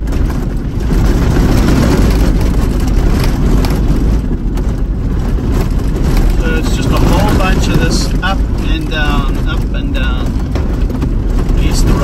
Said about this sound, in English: the corrugations are unforgiving. They just hit you all the time.